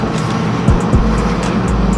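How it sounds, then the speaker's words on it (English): A loud rebuilt BMW M3 engine rumbles nearby at a car show, with a deep steady drone and a couple of brief revving pulses. "They said my car's too loud."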